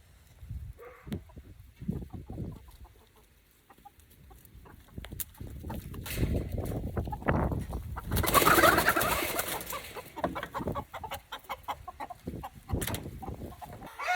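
Chickens clucking and squawking nearby amid scuffling and rustling, growing busier and louder partway through, with a brief flurry of flapping.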